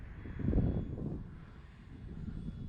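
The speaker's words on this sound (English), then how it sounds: "This plane can just fly so slow for an EDF, which is amazing." An E-flite Habu STS electric ducted-fan RC jet flies slowly overhead, its faint, airy turbine whoosh swelling briefly and then fading into a distant steady hum.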